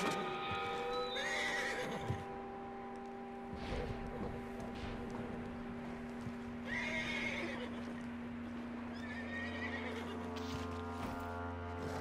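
A horse in Red Dead Redemption 2 whinnies and snorts over the clip-clop of hooves, joined by a steady low hum and game ambience, with no talk.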